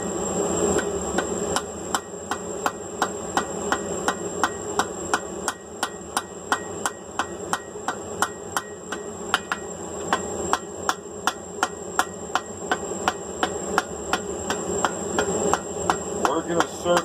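A ball peen hammer domes a rivet on forged flat bit tongs, striking in a steady, rapid series of sharp metallic blows that carry on for over fifteen seconds, close and loud over a ringing background.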